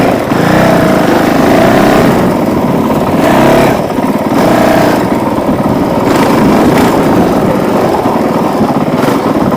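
A Honda CRF450L motorcycle engine running, a loud steady drone close by with slight rises and dips in pitch but no sharp revving.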